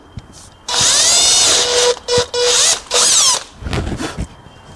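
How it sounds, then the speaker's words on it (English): A power drill bores a pilot hole into a wooden bee box, loud close whine with shifting pitch in several bursts of starting and stopping, followed by softer scraping and handling noises. "So I've just got to do a pilot hole for these threads."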